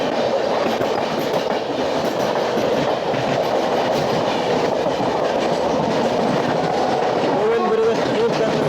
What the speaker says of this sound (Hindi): Prayagraj New Delhi Humsafar express non stop.